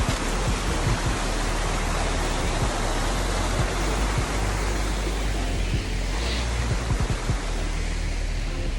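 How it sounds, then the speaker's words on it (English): A waterfall in an ancient forest roars as a loud, steady wash of broadband noise, unbroken and close throughout. "Waterfalls."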